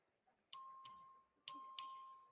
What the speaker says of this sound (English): The clerk will ring the bell.